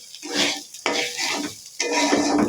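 Rice with whole spices and ginger-garlic paste sizzles as it fries for biryani, stirred in three bursts of scraping and clattering against the pan.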